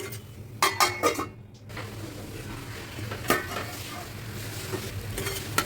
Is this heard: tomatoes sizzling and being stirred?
yes